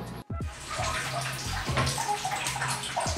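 Tap water runs steadily into a kitchen sink while a printer head is rinsed, a continuous splashing, gurgling stream, fairly close and alone with no talk.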